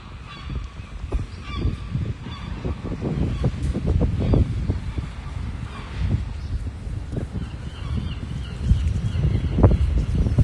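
Seagulls at a rooftop gull nursery by Aberdeen Market, Scotland, give repeated honking, squawking calls, some close and loud, over a steady outdoor wash of street noise and wind.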